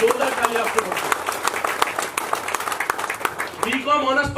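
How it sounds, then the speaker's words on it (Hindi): Dense, steady applause from an audience at a direct selling business presentation, loud and continuous throughout, with a voice speaking over the clapping near the end. "एक बार तालियां बनती है डायरेक्ट सेलिंग इंडस्ट्री के लिए, जोरदार तालियां आपको बनती है"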